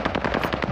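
Rapid automatic gunfire in the Warzone video game, a fast burst of about a dozen sharp, loud shots in under a second.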